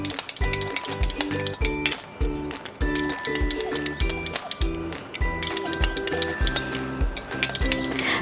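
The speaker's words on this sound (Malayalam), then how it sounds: "എന്നിട്ട് ഇത് നന്നായിട്ടൊന്ന് മിക്സ് ചെയ്ത് കൊടുക്കുക." A spoon stirs quinoa salad with salt and olive oil in a bowl, making rapid, rhythmic clinks and scrapes against the dish, repeating steadily over faint background music.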